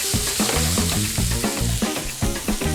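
Onions slowly sweating in a pan, a steady close sizzle with rhythmic scraping and stirring, and no one speaking.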